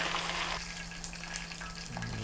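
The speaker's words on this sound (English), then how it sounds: "for the second fry, raise the temperature of the oil" Shrimp for kkanpunggi on its second fry in hotter oil, a steady, soft, crackling sizzle with a low hum underneath, no voices.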